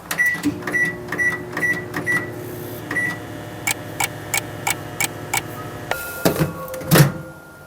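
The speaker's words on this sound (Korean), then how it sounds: "전자레인지에서 3분 그리고 비비신 후에 1분 더 돌려주시면" A microwave oven running while cooking a fish cake side dish, with a low hum and regular ticking beeps, then a few clunks like the door opening near the end.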